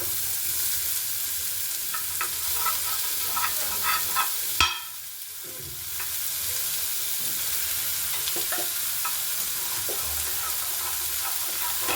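Onions fry in oil with mushrooms, giving a continuous close sizzle with stirring scrapes; around the middle the sizzle briefly dips after a sharp clack, then picks back up steadily.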